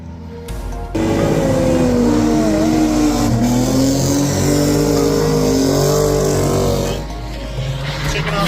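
Mazda Miata drift cars run on a wet, muddy track, engines droning and revving steadily close by for several seconds, with a brief dip before the roar resumes.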